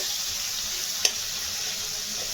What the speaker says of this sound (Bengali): কড়ায় ভাজছি